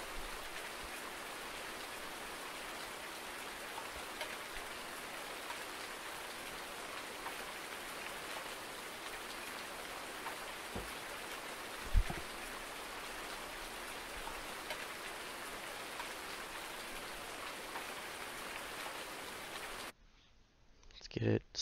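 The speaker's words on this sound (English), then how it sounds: "get out of the rain here while we fast forward" Steady rain pattering in Farming Simulator 19 on a Midwest Horizons farm, a constant soft hiss with a couple of faint knocks, cutting off abruptly near the end.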